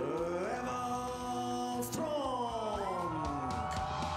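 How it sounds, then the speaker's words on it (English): A crowd cheers and whoops at the Sochi Paralympic para snowboard podium ceremony, a steady, loud swell of many voices with rising shouts, and a voice talks over it. "Just listen to the crowd."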